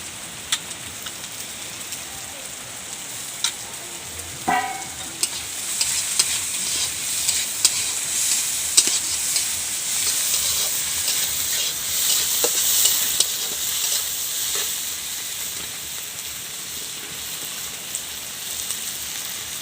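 Chopped garlic, ginger and green chilli fry in a pan with a steady, bright sizzle, with occasional stirring scrapes and a brief knock near the start.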